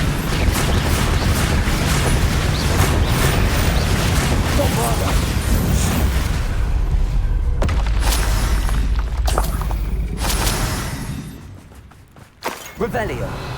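Bombarda explosion spell in Hogwarts Legacy, a loud, dense blast with crashing debris rumbling for about ten seconds, then cutting off abruptly and leaving a few sharp cracks in quieter aftermath.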